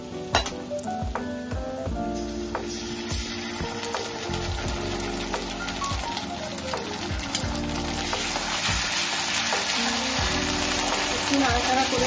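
Ginger garlic paste frying with onions in a pan for a Bengali mustard and curry-leaf chicken curry, a steady dense sizzle with occasional stirring scrapes and clatter, close and continuous, while a person talks over it.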